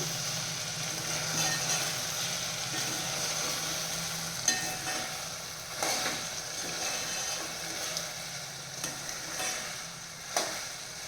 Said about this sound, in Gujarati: આને આપણે વચ્ચે હલાવી લઈશું।